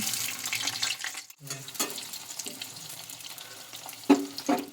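Halved boiled eggs frying lightly in oil in a pan, a soft sizzle broken by scraping and a couple of sharper clatters near the end, with faint water-like splashing.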